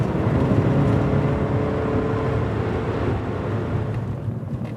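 Porsche 944 Turbo driving fast, its engine a steady, loud, close drone that holds near-constant revs throughout with no break.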